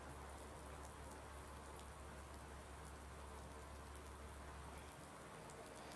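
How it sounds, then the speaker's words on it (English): Steady rain falls in a farming video game, a constant dense hiss of drops with a low rumbling bed, fairly quiet and unbroken throughout with no voices. "It's raining right now."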